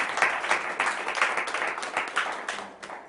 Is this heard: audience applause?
yes